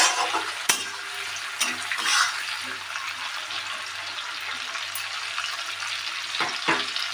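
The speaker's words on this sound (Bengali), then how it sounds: "এটা দেওয়ার পরে বন্ধুরা এটা একটু কষতে হবে যতক্ষণ না টমেটোটা গলে আসছে" Tomatoes and green chillies sautéing in a pan for chicken curry, a steady close sizzle with occasional stirring scrapes and clinks, with no talk.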